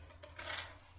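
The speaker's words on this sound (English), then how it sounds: "Just grab a pair of scissors and just cut all the" A pair of scissors makes one quick, close snip as it cuts the feather off a quill being made into a fishing float, a short crisp clip over quiet room hum.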